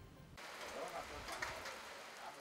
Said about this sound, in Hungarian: Eső áztatja a málna bokrokat a nagyvenyimi kertészetben.